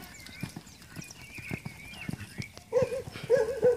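A horse's hooves pound the ground in a steady, rhythmic gait around a riding arena during a riding lesson. The beats are moderately close and clear, and brief voice-like tones rise near the end.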